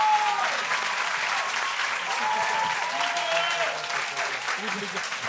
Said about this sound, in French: Merci d'applaudir Christophe Boulmé.